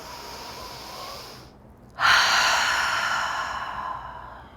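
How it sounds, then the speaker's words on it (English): A deep cleansing breath during a yoga session: a soft inhale, a short pause, then a louder, rushing exhale through the nose that gradually fades, close to the microphone. "Give yourself a cleansing breath."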